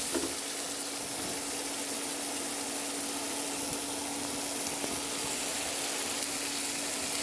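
A small fish curry base of garlic paste and raw tomatoes fries in a pan, sizzling and hissing steadily and fairly loudly, close by and uninterrupted throughout.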